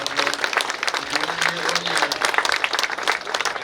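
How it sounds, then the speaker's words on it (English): An audience at a presentation at Beech Ridge Motor Speedway breaks into dense, continuous applause, a loud, close wash of many hands clapping at once with faint voices mixed underneath. "I appreciate a nice round of applause for Dan and all his organization"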